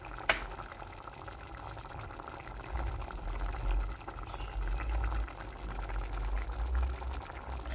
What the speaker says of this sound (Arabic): هون بلشوا يغلوا، بخفف الغاز قد ما فيني كرمال ما تحترق الطنجرة